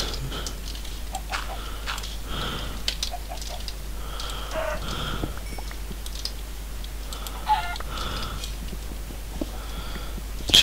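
Minecraft chickens in a Tekkit-modded game cluck in short, scattered bursts at moderate volume, mixed with faint keyboard typing and a low steady hum.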